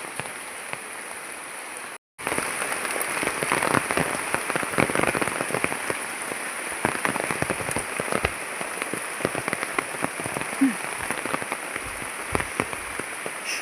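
Steady rain falls through the whole scene, a dense continuous patter of drops on surfaces close by, broken only by a brief dropout near the start, with no talk over it.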